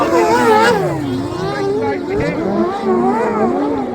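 Autocross buggies race flat out in a Spezialcross final at Eppe, Germany, with several loud engines revving and shifting pitch together while an announcer speaks continuously over them.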